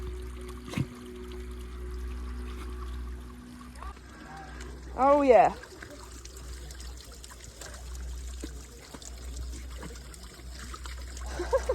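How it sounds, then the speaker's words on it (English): A small mountain stream trickles beside a mountain bike trail at La Thuile, a faint, continuous watery dribble under low background noise, with a brief spoken exclamation midway. "Little guy's found a stream."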